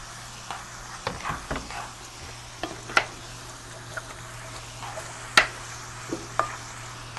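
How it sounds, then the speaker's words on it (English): Light stir-frying in a pan, a low steady sizzle broken by several sharp scrapes and clinks of a utensil against the pan. "Okay, so she's going to keep stir frying here."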